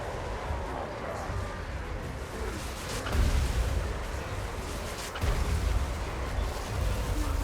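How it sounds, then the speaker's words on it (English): Explosions from a Total War: Warhammer 2 battle rumble through dense, continuous battle noise, with heavy booms swelling at two points amid the din. "And an explosion from Cuddles as well, leaving the enemy army pretty much completely devastated."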